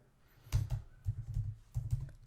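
Code being typed on a computer keyboard in three short clustered bursts of close, thumpy keystrokes with brief gaps between them, heard alone without any talking.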